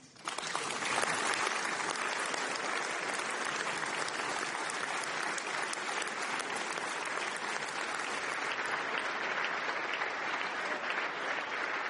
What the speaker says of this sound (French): Le président du Sénat qui est actuellement très applaudi, comme vous pouvez l'entendre derrière moi.